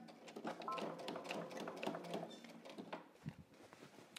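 A sewing machine runs slowly over an existing seam on jeans being remade into a skirt, giving a quick mechanical clatter of stitches that pauses and restarts near the end, close but fairly quiet.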